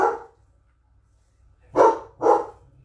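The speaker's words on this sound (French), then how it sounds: "Ah, il y a quelqu'un qui arrive. Sinon, le chien n'aboierait pas." A dog barks at someone arriving: one bark, a pause, then two quick loud barks close together, each short and sharp against a quiet background.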